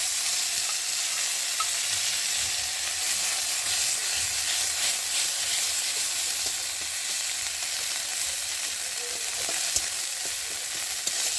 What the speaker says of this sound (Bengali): কড়াতে তেল দিয়েছি, তেলটা গরম হয়ে গেছে। আর এখন এই যে বেটে রাখা এটাকে দিয়ে ভালো করে নেড়ে নেব।